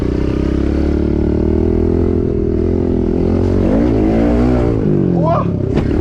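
A pit bike engine revs steadily on a snowy backyard dirt track, its droning tone loud and continuous throughout, shifting in pitch toward the end, with a rider's voice talking over it.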